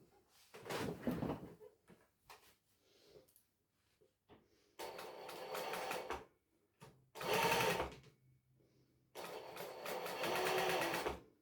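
A domestic sewing machine stitches very shiny fabric for dungarees and a jacket in three loud, steady whirring runs, separated by quiet pauses with small handling clicks.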